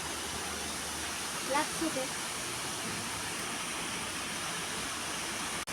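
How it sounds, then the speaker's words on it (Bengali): A waterfall near a small town roars as a constant broadband rush, steady and moderately loud throughout, with a brief murmur of a voice over it. "এই ঝর্ণা দেখতে চাইলে চলে আসেন"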